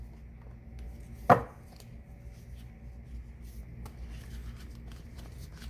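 Tarot cards being handled and opened, one sharp close snap of cards early on followed by soft, faint papery rustling and shuffling.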